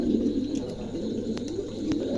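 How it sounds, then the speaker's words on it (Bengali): A pair of pigeons, a Kopal color male and an Andalusian female, coo softly in low rolling murmurs against a steady background hum, with a few faint chirps from other birds nearby. "চমৎকার একজোড়া কবুতর, মেলটা হচ্ছে কপাল কালার, ফিমেলটা অ্যান্ডোলেশিয়ান"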